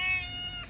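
A ginger cat gives a single drawn-out meow, close and clear, with a steady harmonic tone lasting under a second.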